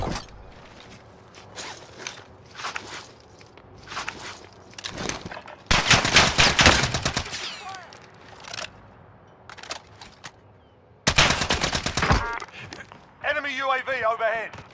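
Gunfire in Call of Duty on Rebirth Island, with bursts around six and eleven seconds, a game voice speaking between them, and dense battle noise throughout.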